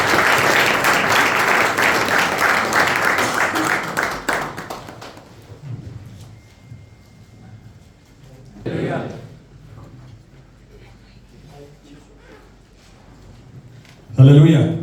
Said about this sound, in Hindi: तालियों के साथ हम इनवाइट करते हैं